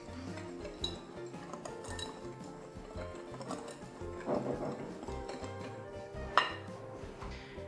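Whisk scraping and clinking in a bowl of cupcake batter ingredients, quiet uneven taps and rattles with a couple of sharper metallic clinks, close and alone.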